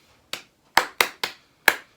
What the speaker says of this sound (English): You can clap it.